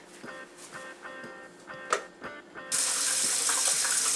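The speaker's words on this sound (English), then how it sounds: "Let's say you have a leaky faucet and you want to shut it off." Water splashes from a leaky faucet, beginning as a few irregular drips and clinks. Partway through it turns into a steady, loud, broadband rush of running water that continues to the end. No one speaks.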